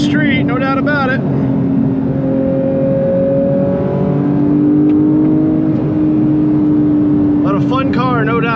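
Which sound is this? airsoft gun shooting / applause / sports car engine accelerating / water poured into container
sports car engine accelerating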